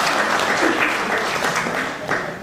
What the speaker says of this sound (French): Oui, on peut l'applaudir.